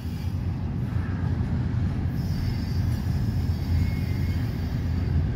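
A CSX intermodal freight train passing northbound on track one, a steady, loud rumble of wheels and cars rolling by continuously, with faint wheel squeal over the roar.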